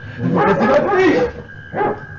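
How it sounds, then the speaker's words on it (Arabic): Dogs bark in a couple of short, loud bursts close by, with a brief pause before a final bark. "ايه اللي جاب الكلاب السعادي؟"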